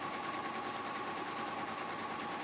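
A sewing machine runs steadily and continuously, stitching the base of a fabric basket with a fast, even mechanical whir held at close range for the whole stretch.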